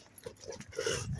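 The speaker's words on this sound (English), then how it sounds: "There's a dog there." A dog on a New York City street between Cross Island Boulevard and Aqueduct Racetrack gives a few soft, brief whimpers and snorts nearby amid steady traffic and city noise, growing slightly louder toward the end.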